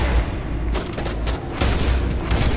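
A heavy mounted gun fires in the video game Scourge Outbreak, producing a loud, boomy rumble of dense, overlapping blasts that briefly eases mid-clip and then surges again with no talk.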